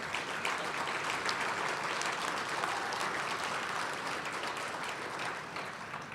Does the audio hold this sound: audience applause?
yes